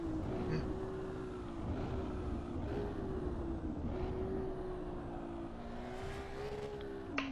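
Ferrari hypercar in the Assetto Corsa Evo racing game, its engine holding a loud, steady high-revving drone with small pitch dips and rises as it powers through the lap, no voices over it.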